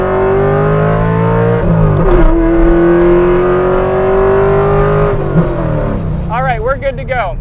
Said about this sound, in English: we're gonna give this car a little bit of gas, just a little bit